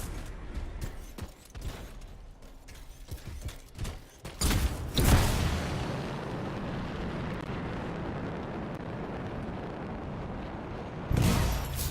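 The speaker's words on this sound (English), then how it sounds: "It'll be a contained explosion." A contained explosion erupts in the Anthem action game, a loud booming blast followed by a long roaring rumble and crackling debris, with a second burst near the end; no talking.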